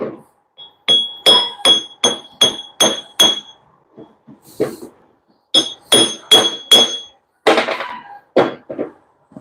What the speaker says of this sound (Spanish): Voy a buscar un martillo pequeño que tengo de bola para martillar.